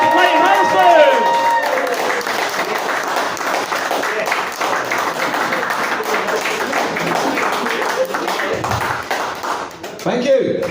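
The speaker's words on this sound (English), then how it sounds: "Right, Adam, start the clapping." A pub audience claps steadily and loudly throughout, with a few whoops and cheers mixed in. Brief talk sits at the start and end.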